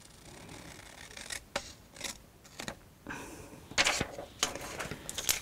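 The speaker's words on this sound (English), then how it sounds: "use my scissors" Several sharp snips and crisp rustling cuts as scissors cut through paper, close up, coming in irregular bursts with quiet pauses between them.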